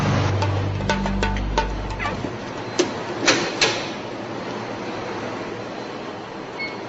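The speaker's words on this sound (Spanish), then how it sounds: "A centrifugar." A laboratory centrifuge spinning, a steady airy whir with a low hum that fades after the first couple of seconds and a few sharp clicks, fairly close.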